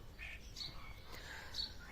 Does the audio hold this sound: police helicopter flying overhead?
no